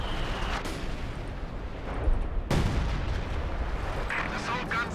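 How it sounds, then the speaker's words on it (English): Heavy booms of a leFH howitzer firing in a World War II strategy video game, two deep blasts about a half-second apart within constant battlefield rumble, a voice over it. "Oh god, the LEFH is firing in base."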